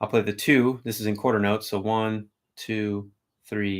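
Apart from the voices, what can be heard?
No everyday noise stands out behind the speech.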